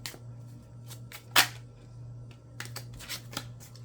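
Tarot cards are shuffled and handled, producing soft scattered riffles and flicks with one sharper snap, quiet and close over a low steady hum.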